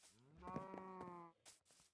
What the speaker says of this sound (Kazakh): Мыяқта сиыр ужел.